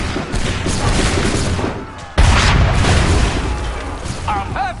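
A single loud cannon or musket blast booms out in an Assassin's Creed 3 battle against redcoats, standing out above a constant roar of combat noise.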